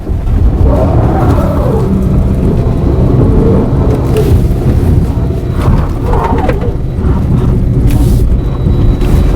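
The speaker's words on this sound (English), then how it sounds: "Take the Sorento off-road." A 2016 Kia Sorento AWD crawls off-road over narrow ground strewn with tree roots, its engine a loud steady rumble close by, with brief surges and thumps as the tires work over the roots.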